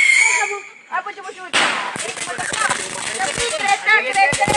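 A voice briefly at first, then a rapid, irregular string of sharp firecracker bangs and pops crackling loudly and close by.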